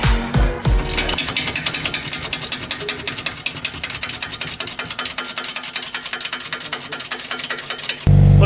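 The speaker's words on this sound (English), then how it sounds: "When you're in a rush, you need to use your power tools." Power tools removing the exhaust from a Scion FR-S during an Invidia N1 exhaust install. A loud, fast mechanical ratcheting rattle runs almost nonstop for several seconds, then cuts off abruptly at the end.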